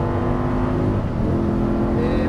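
Audi R8 V10 accelerating at Exotics Racing racetrack, a continuous loud engine roar heard from inside the car, holding steady and then rising slightly in pitch toward the end.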